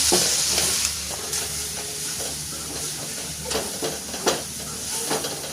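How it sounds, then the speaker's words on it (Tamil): Squid fry being stirred with coriander in a hot pan, a steady close sizzle with periodic scraping strokes of the spoon, moderately loud and without any voices. "கொஞ்சமாக மல்லியில் போடுவோம். போட்டுட்டு நல்லா கலந்து விடுவோம்"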